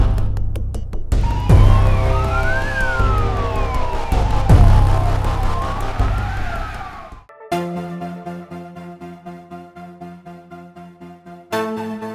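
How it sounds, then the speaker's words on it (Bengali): An ambulance siren wails in rising and falling sweeps for about seven seconds, loud and close, then cuts to a sustained musical tone in a Bangla drama scene. "অ্যাম্বুলেন্স"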